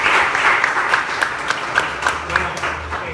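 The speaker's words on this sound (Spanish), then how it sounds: "Un aplauso, por favor." An audience at an art talk applauds, with individual claps standing out in a loose, fairly close round, and a voice briefly speaking over it.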